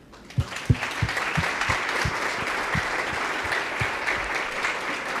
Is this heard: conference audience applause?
yes